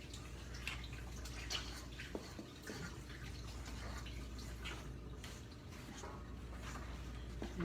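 Water runs softly from a kitchen sink tap while hands are washed after working flour dough, a faint steady splashing and trickling with scattered drips and a few light knocks.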